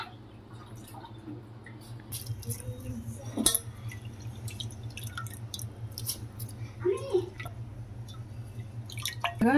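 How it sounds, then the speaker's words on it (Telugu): Water trickles and drips into a metal cooking pot for jaggery rice pudding, with small splashes and clinks over a steady low hum; a voice speaks briefly in the background. "ఇప్పుడు దీంట్లో కొంచెం వాటర్ అయితే పోసుకున్నానండి"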